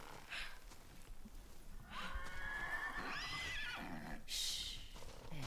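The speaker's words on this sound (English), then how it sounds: "Whoa, boy! Get a handle on your beast! The horses feel something's wrong." Horses in the video game Ghost of Yōtei neigh and whinny uneasily on a snowy mountain ridge. Several shrill, rising whinnies sound close by over soft hoof clops and a quiet ambient bed.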